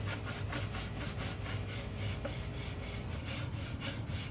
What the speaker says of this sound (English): And you give it a little scrub.